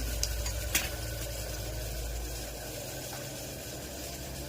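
Steady sizzling of spices hitting hot oil, with a couple of sharp crackles near the start, then a constant hiss underneath.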